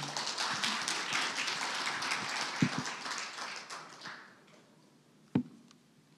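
An audience at a student speech contest gives a burst of clapping that holds for about four seconds, then fades out, followed by a few isolated taps and knocks.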